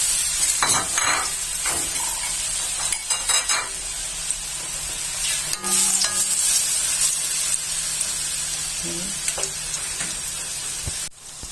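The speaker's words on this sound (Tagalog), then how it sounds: "ang gagawin natin ay magluluto tayo ng banana Q. Lalagay na natin ang saging" Banana pieces sizzling in hot oil in a pan while cooking banana cue, a steady close frying hiss throughout with scattered clinks and stirring knocks of utensils against the pan, and no talking.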